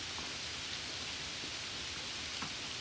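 Heavy rain falls in a forest as a steady, even hiss that stays faint and continuous throughout, with no voices.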